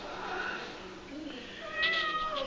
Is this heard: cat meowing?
yes